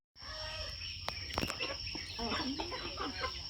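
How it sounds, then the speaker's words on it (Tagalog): Chickens and a rooster call and cluck close by in a busy outdoor yard, with scattered bird noises throughout. "Damo manok ni Chow Chow"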